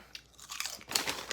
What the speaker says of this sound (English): It's a nice crunchy chip.